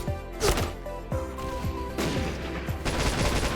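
Rapid shotgun fire in the video game Point Blank, several sharp reports in quick succession with clattering action sounds, loud and close with no talk.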